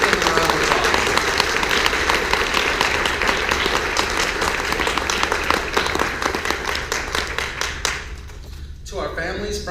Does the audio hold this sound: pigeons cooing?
no